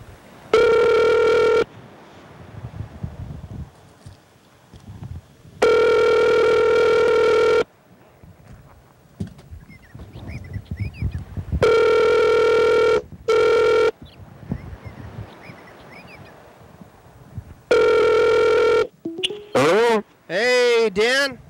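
A telephone rings in repeated long electronic bursts while a call is placed on a TV program, with people talking in the gaps between rings and a warbling tone near the end.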